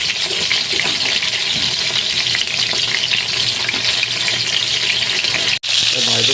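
Chicken blood sizzles loudly in hot oil, a dense steady frying hiss that runs the whole way with faint clatter and a brief cut near the end.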